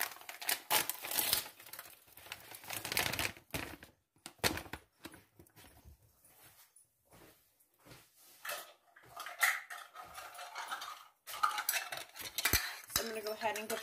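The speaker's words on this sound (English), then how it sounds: "let's go ahead and mix this up" Highkey keto pancake and waffle mix stirred in a bowl, heard as quiet scraping and clinking of a utensil against the dish in uneven bursts with brief pauses, no talking.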